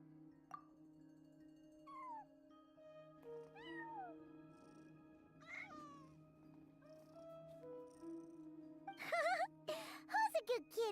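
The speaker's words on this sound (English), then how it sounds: "Who's a good kitty?" A cat meows repeatedly in a video game scene, short rising mews scattered over steady background music, with a cluster of louder, quicker meows near the end.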